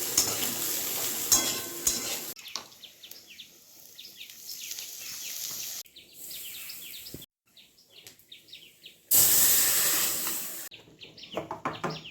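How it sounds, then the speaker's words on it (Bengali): Soybean chunks fry in oil in a wok, a loud crackling sizzle in the opening seconds, then quieter stretches with bird chirps outdoors and another strong burst of frying near the end. "কড়াইয়ে আবারও তেল দিয়ে একটু সয়াবিনটা ভেজে নেবো"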